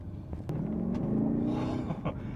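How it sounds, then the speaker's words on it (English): A BMW X6 M50i SUV engine rumbles up in pitch as it accelerates steadily, a rising drone heard from inside the cabin with a few clicks and knocks. "The acceleration on this car is nothing like you would expect from a big SUV"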